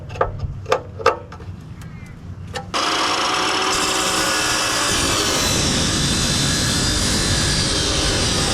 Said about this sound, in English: I'll be using a drop saw to cut the SHS.